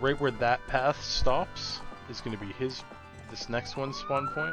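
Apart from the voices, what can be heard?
emergency vehicle sirens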